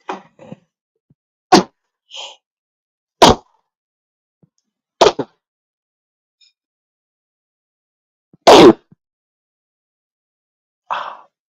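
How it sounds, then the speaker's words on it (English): A series of sharp, explosive sneezes, about four, spaced a few seconds apart and separated by silence, with a softer sound at the end. "Excuse me while I sneeze."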